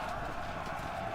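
Horses galloping in a video game, a quick, even patter of hooves held at a steady loudness over a short burst, with a faint voice in the background.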